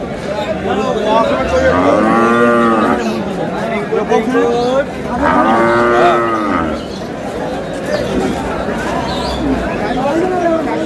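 Two loud, drawn-out cow moos a few seconds apart, heard close by over steady crowd murmur and people talking nearby at an outdoor cattle market in Dinajpur, Bangladesh.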